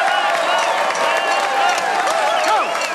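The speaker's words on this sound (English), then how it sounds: "Let's have a big round of applause for the big guy, Mr. Joe, head of the family" A crowd applauds and cheers steadily for the head of the family at a family gathering, dense clapping filling the whole stretch with scattered whoops and voices mixed in.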